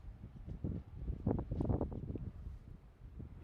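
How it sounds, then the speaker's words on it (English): Low, rumbling gusts of wind buffet the microphone, swelling and easing in uneven waves throughout. "It's windy as hell out here."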